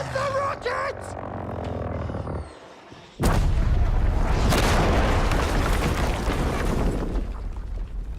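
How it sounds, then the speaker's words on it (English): A rocket explosion in the Battlefield V video game erupts as a sudden loud boom after a brief lull, followed by a long rumbling, crackling roar of debris and battle noise, with game voices briefly at the start. "That's the rocket!"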